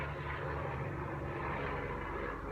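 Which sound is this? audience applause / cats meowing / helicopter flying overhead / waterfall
helicopter flying overhead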